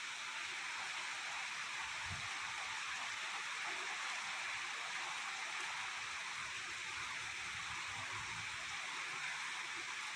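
Cyclone wind roars steadily through trees, including banana and taro plants, at night in Dum Dum Cantonment, a constant dense rush with rain mixed in and no talking.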